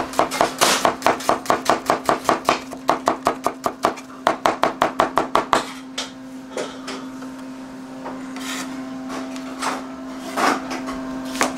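A knife chops onion into slices on a board in a rapid, even run of sharp, close knocks for about five seconds, then a few slower scattered cuts, over a steady background hum.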